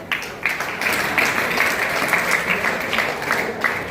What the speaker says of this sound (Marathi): राज जेत्री, राजसाठी जोरदार टाळ्या